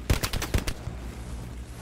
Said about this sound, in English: We're getting shot at, but I don't know where from